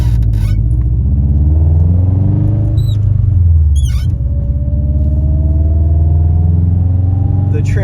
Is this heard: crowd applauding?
no